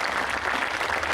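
An audience at an evening show in Mussomeli claps for Pro Loco friends, a brief, dense wash of applause with no talking.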